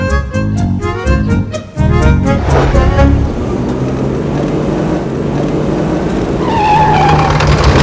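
A car braking hard and skidding to a stop, loud and close, with a roaring engine and a tire screech rising near the end, in a busy, noisy scene.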